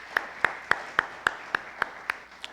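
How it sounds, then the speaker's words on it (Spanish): A small crowd at a church service gives scattered, evenly spaced hand claps, about nine sharp claps in a slow steady rhythm, fairly faint and distant, with no talking over them. "No le damos un aplauso a los chicos de producción, son gente carga que están ahí."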